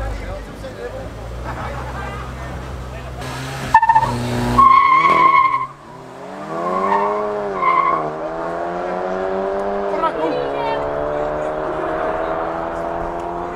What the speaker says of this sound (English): Fiesta ST up against the Golf 7 GTI.